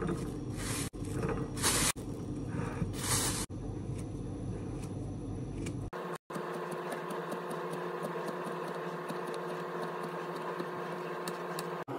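Fruit is washed under a running kitchen tap, a steady splashing rush of water with brief louder bursts, then a continuous smoother flow with faint clicks.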